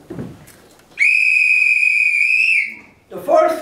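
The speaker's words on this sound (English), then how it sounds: "I'd like to give you the start whistle." A single long whistle blast starts a hurling match between Carrickchock of Kilkenny and Ahascar, steady and loud for about a second and a half, bracketed by brief bits of talk.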